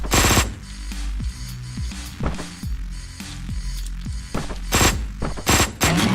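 Rapid, punchy gunfire in Hotline Miami 2 fires in quick successive bursts over a thumping low synth beat, loud and close throughout.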